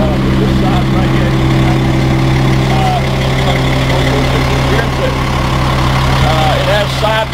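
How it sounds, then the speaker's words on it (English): An engine idling steadily after running for about 45 minutes, a loud, close, even low rumble with a regular throbbing pulse, while someone talks over it throughout. "we've got this engine running. It's been sitting here running for about 45 minutes"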